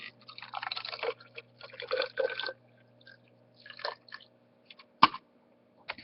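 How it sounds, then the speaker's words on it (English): Liquid poured into a graduated cylinder in a small lab demonstration, with soft trickling and splashing bursts, then a few separate drips and one sharp clink near the end, close and quiet. "So let's pour some of this unknown amount of liquid into our graduated cylinder."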